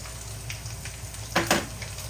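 Garlic sautéing in a pan for creamy chicken curry, a continuous close sizzle with two brief louder crackling bursts as it is stirred, no talking.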